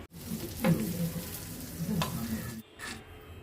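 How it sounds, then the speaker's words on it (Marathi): Pieces of Bombay duck fish fry in hot oil in an Agri-style home kitchen, giving a steady, fairly loud crackling sizzle with a few sharper spits, then a brief lull near the end. "पाच मिनटं एक बाजू आणि पाच मिनटं दुसरी बाजू असं आलटून पलटून आपल्याला व्यवस्थित असं छान तळून घ्यायच्या आहेत तुकड्या"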